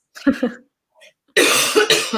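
A couple of short throaty sounds are followed by a loud, harsh cough burst close to the microphone, rough and breathy.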